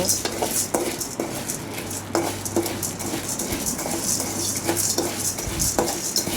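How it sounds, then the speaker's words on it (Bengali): Chana dal dry-roasting in a kadai, grains rattling and scraping as a utensil stirs them in steady repeated strokes, with a low hum and faint sizzle underneath. "প্রথমে আমি বুটের ডালগুলো ভালো করে একটি কড়াইতে টেলে নেব"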